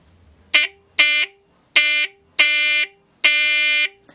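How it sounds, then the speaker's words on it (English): A vintage Lionel toy train electric horn sounds five times in short separate blasts, the later ones held longer, each a bright buzzing tone that cuts off cleanly, with silence between. "now it cycles reliably and the horn sounds good"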